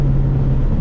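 A loud, deep Ford Mustang GT exhaust with a Corsa Xtreme cat-back system drones steadily and close, a rough low rumble with no voices.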